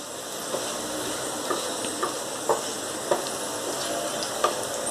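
Okra (bhindi) pieces fry golden and crisp in hot oil with a steady, close sizzle, broken by occasional light ticks and soft stirring knocks.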